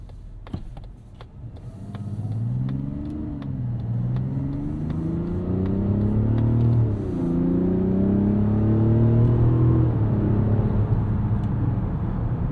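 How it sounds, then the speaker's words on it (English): Turbocharged inline-six in a Mazda CX-70 Turbo S accelerating hard in sport mode, engine note rising steadily through the gears with shift dips, loud and continuous from inside the cabin, carrying a mechanical edge. "There's a lot more mechanical noise here than I expected."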